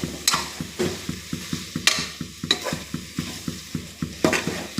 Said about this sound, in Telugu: ముక్కలకు కలిసేట్టుగా కలిపేస్తున్నాను